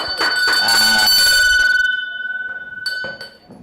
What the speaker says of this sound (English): Ring the bell for Roman.